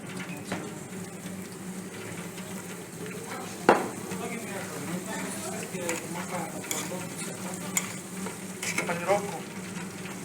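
Chebureks and breaded corn dogs fry in hot oil with a steady, dense sizzle. Pans and utensils clink now and then, one sharp knock stands out, and voices talk at moments over the bubbling.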